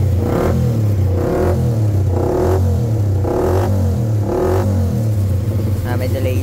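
Remapped Boss PA engine revving repeatedly, about five rhythmic throttle blips that rise and fall in loud, close bursts with some clatter, with a voice talking over the revs.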